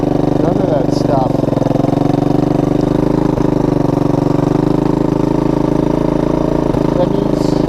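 Small single-cylinder engine of a 1983 Honda ATC 200E three-wheeler running steadily up close, a continuous loud idle with a thrumming rhythm, with speech faintly present.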